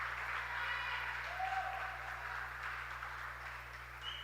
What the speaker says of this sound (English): I get Brandon Butcher a round of applause once again.